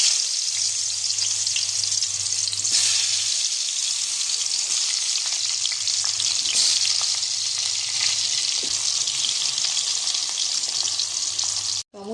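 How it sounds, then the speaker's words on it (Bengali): Pieces of pointed gourd fry in a few spoons of hot oil in a wok, a steady close sizzle with light crackles and a low background hum, ending in a short knock. "এরপর একে একে পটলগুলো দিয়ে ভেজে নেব"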